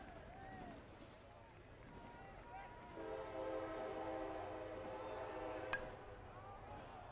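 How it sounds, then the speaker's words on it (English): Train passing right field of a baseball ground in Springfield during a high-school championship game, its horn sounding as a sustained harmonic blare, fairly distant, under crowd and field ambience. "You hear the train in the background"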